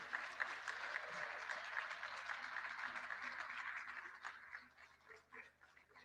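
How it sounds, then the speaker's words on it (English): A crowd at a conference event gives a round of applause, a faint, fairly distant wash of many hands clapping that thins out after about four seconds. "A big round of applause, please."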